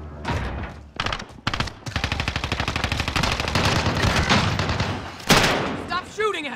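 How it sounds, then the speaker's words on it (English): Rapid automatic gunfire bursts in Call of Duty: Modern Warfare, dense and loud with near-continuous rattling, a few pauses and a sharp blast near the end, with players talking over it. "Stop shooting at me."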